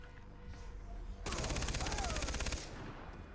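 Rapid automatic gunfire in Far Cry 3 cuts in suddenly and rattles loud and close for over a second against a patrol, then stops abruptly.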